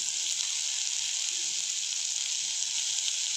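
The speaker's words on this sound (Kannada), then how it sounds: "ಈರುಳ್ಳಿ ಒಂದು ಸ್ವಲ್ಪ ಫ್ರೈ ಆಗಿದೆ. ಈ ಟೈಮಲ್ಲಿ ನಾನು ಮೆಂತ್ಯ ಸೊಪ್ಪನ್ನ ಸೇರಿಸ್ಕೊಳ್ತೀನಿ." Onions and fenugreek leaves fry in a pan with a steady, close, hissing sizzle, plus faint soft clinks of stirring underneath.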